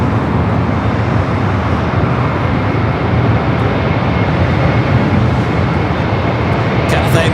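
An ANA Boeing 787 Dreamliner jet airliner at LAX airport, pushing back for Tokyo Narita, gives a steady, loud, broad engine roar that holds without a break throughout.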